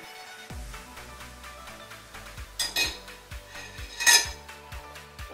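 A metal saucepan and utensils clink and clatter in a kitchen as gelatin and water go into the pan, with a few sharper rings standing out among softer knocks.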